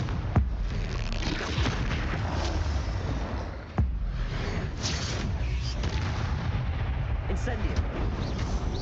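Blasting-spell explosions from Hogwarts Legacy gameplay, a steady stream of booming bursts and crackling impacts with a few sharper cracks standing out, loud and continuous throughout.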